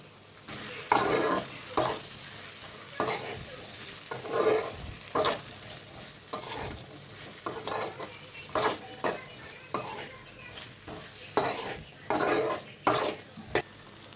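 Spoon stirring a tomato and okra curry in a pan, with repeated scraping strokes in an irregular rhythm over a low background sizzle, close and fairly loud, with no voices.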